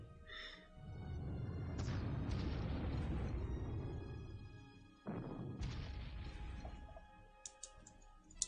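A KV tank is destroyed in a WWII strategy game battle at Voronezh: a loud, rumbling explosion swells and holds for several seconds, then a second sharp blast hits and trails off, followed by a few small clicks.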